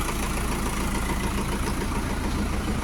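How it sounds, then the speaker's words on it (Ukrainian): A Lovol 504 tractor's diesel engine idles steadily and close by, an even low rumble with a faint knocking texture and no pauses. "Двигун працює дуже гарно."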